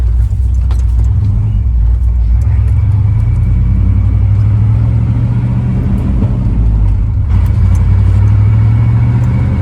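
A 1989 Chevy OBS pickup with no muffler drives past, its loud, raw exhaust rumbling steadily and close throughout, with no one talking.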